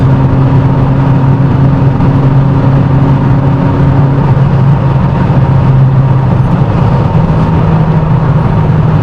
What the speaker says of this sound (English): Downshift, rev match, comes on boost quickly.